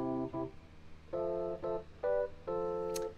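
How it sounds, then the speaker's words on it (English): A classic vintage electric piano software instrument plays a handful of short, bell-like chords in a halting rhythm, each clean and mellow with quick decay, heard alone without talk. "So I'll choose a classic electric piano."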